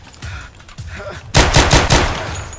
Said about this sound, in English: Pistol in the head with the final bullet.